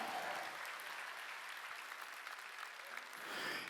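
Sustained applause from a large church congregation during a Wednesday worship service, steady and dense throughout, swelling slightly at the end.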